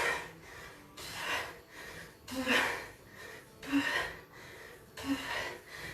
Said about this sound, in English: The panting is optional.